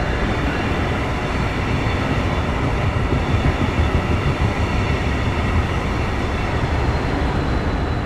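A Brightline high-speed rail train in Miami, bound for Fort Lauderdale, roars past close by with a steady, loud, continuous rumble and faint rail clatter throughout.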